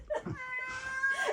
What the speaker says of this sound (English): The cat is out in the rain.